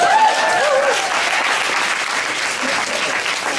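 An audience claps in a sustained burst of applause that fills the whole moment, with a voice briefly audible at the start.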